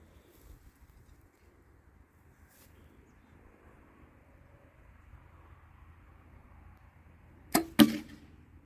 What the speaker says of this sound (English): We got another arrow. And we're shooting this ramcat again.